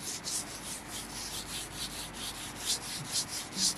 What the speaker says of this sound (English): I'm going to rub all over our cushion